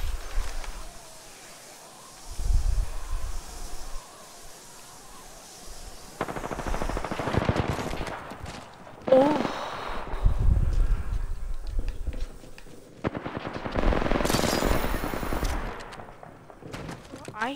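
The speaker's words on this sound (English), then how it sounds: "I hear fighting." Gunfire from a fight in Apex Legends comes in separated bursts of rapid automatic shots, some distant and some nearer, with quiet gaps between them.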